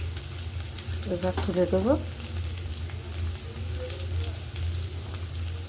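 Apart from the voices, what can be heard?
onions frying in oil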